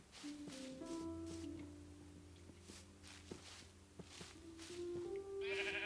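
Several Minecraft sheep bleat in turn, quiet, distinct calls spaced through the clip with soft footstep-like noises in the background.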